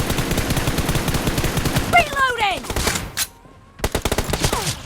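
Rapid automatic gunfire in the PUBG Mobile video game, loud bursts of shots fired in quick succession, broken by a brief near-silent pause and then resuming, along with other in-game sounds.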